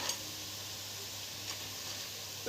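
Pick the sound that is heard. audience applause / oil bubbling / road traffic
oil bubbling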